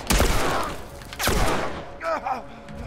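Enemy gunshots in The Last of Us, two heavy booming blasts roughly a second apart, loud and close, followed by a fainter stretch of game noise with brief voice-like sounds.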